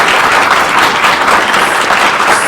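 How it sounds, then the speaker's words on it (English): An audience claps steadily throughout at a State of the City gathering, a dense, continuous wash of applause at fairly close range with no voices breaking through. "Let's give them a round of applause."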